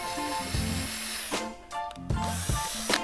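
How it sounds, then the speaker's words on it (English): A power drill bores holes into 1-foot PVC pipes during a DIY camera dolly and track build, with several short bursts of motor whine separated by pauses, close and fairly loud. "Take your drill and drill some holes into the 1-foot PVC pipes."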